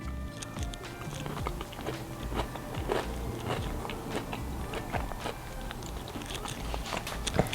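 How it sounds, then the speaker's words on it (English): Close, crisp crunching as a raw carrot is bitten and chewed, a steady run of sharp crackling bites and grinding chews served alongside brown stewed meatballs and mashed potato. "That's a carrot. I so me like my vegetable crunchy."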